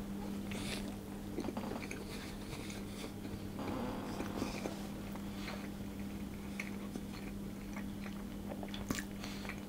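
Someone chewing a bite of Simnel loaf cake, a fruity marzipan Easter cake: soft, close, moist mouth sounds and small bites continuing quietly over steady room hum, without speech.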